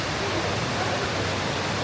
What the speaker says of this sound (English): have a seat here and watch the waterfall.